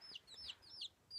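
Faint, high chicks peeping in short, falling chirps, several in a row with brief gaps between them.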